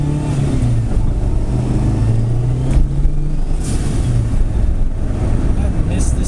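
A turbocharged Honda EF Civic engine drones loud and steady, its tone rising and falling as the big turbo spools, with brief hissy bursts of released boost pressure.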